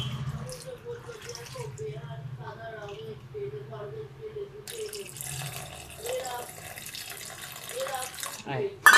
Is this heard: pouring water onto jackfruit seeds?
yes